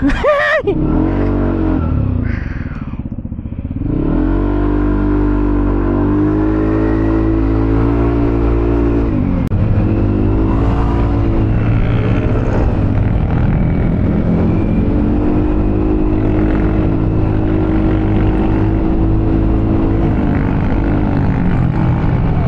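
A Yamaha Aerox 155 scooter's newly installed aftermarket exhaust revs up sharply, then holds a loud, raspy drone with rising and falling throttle, close to the listener.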